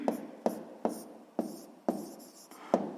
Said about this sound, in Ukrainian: Записуємо тоді.